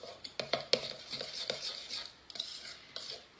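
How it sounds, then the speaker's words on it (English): A spoon stirs avocado bread batter with baking powder in a bowl, producing soft scraping swishes and a few sharp clicks against the bowl, close and fairly quiet. "give that a quick little stir"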